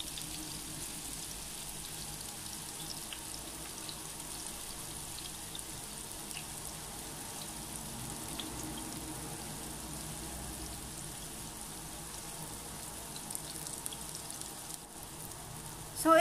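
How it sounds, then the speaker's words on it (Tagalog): Tofu frying in about 2.5 tablespoons of cooking oil gives a steady, even sizzle and crackle, moderately close and constant for the whole stretch, with no voices over it. "priprituhin po muna natin ang ating tofu hanggang sa ito ay mag-brown"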